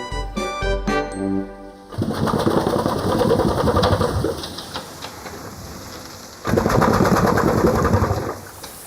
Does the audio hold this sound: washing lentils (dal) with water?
no